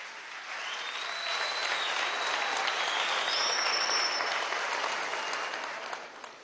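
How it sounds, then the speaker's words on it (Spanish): Audience applause at a political party congress in Venezuela, a sustained round of clapping that swells, peaks in the middle and tapers off toward the end. "Un aplauso a Darío, ¿vale?"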